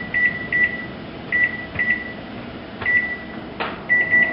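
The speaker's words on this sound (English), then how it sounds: "I'm going to put my timer on" A kitchen timer gives short electronic beeps in irregular single and paired bursts as it is set while chicken broth cooks, clear and close in a quiet room.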